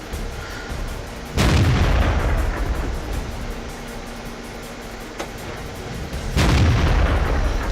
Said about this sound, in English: He's going to fire a couple shots into where he thinks the T-29 is.